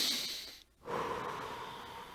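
Controlled breathing shown for calming an anxiety attack: a long breathy inhale or exhale, a brief pause, then another sustained airy breath, close and fairly soft.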